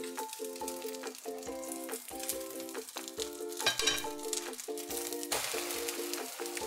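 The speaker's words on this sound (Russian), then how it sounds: "Жарю, как обычный блинчик." An omelette egg mixture fries in a pan with a steady, close sizzle and crackle, while bright, repeating tonal music plays loudly over it throughout.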